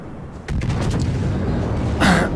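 A battleship's main guns fire a salvo in World of Warships with the German Großer Kurfürst, a sudden heavy boom and then a sustained rumble, and a second sharp blast near the end, loud and close.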